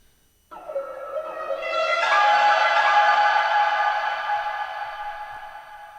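A washed-out ambient piano accent soaked in stereo and tape delay, panned and with lows cut, enters suddenly then blooms into a shimmering, sustained wash that slowly fades.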